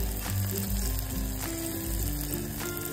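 Onion and tomato sizzling and frying in a pan with red chili powder, turmeric and garam masala, a steady close crackling sizzle with occasional stirring scrapes and no talking.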